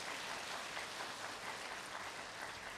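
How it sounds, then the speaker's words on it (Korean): A church congregation claps together in a dense, even patter that stays faint and distant, with no voices rising above it. "여기서는 박수 한번 쳐봐요."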